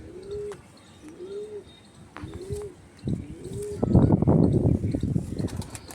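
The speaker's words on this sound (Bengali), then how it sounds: "খুব ছটফটে পায়রা।" An old-line Madrasi pigeon coos in repeated soft rising-falling calls, close and clear, followed by a burst of louder fluttering and shuffling as the restless bird moves.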